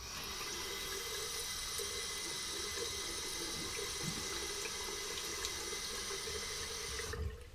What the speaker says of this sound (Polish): Zalewam ciepłą wodą.